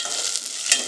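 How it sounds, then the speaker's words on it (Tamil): Mustard seeds, shallots and garlic frying in a pan give a soft, hissing sizzle with a brief louder crackle near the end, close and steady across the short moment. "கடுகு போட்டு சின்ன வெங்காயம், சின்ன வெங்காயம் பூண்டு ரெண்டையும் போட்டு"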